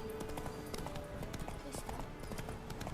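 Horse hooves trot in The Witcher 3 with a quick, even clip-clop rhythm, fairly close, under a murmur of voices.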